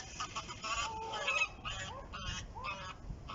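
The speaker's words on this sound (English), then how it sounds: "All the geese are coming down there now, as you can hear them." A flock of geese flying in and landing by a carp fishing lake honk repeatedly at middle distance, overlapping calls in an irregular chorus, fairly faint in open air.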